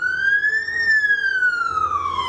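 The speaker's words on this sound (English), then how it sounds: "Siren just going past" An emergency vehicle siren sweeps past outdoors, one clear rising-then-falling wail at moderate distance over light traffic rumble.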